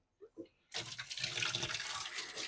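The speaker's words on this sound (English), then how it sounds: "So I like to rinse my hides really well." Water runs steadily over bloody animal hides being rinsed before pickling in a home taxidermy tanning setup, a continuous close hiss and splash after a brief quiet start.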